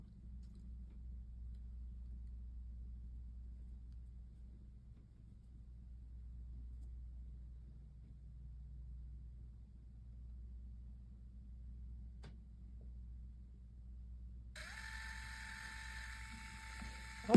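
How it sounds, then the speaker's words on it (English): An Ivy 2 photo printer runs a print with a faint, steady low mechanical hum throughout, and a short bright tonal chime near the end. "We're going to try to print this."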